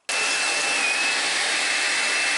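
A Makita DCL180Z cordless LXT vacuum cleaner switches on and runs with a steady, loud, close whine and airy rush for about two seconds, then cuts off sharply, with no voices.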